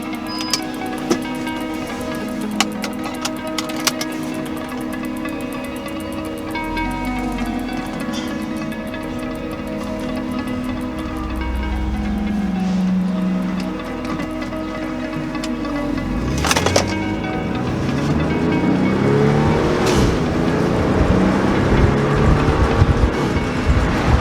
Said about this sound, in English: So I'm gonna try to rev it up, maybe 4 or 5, and really get the sound at stock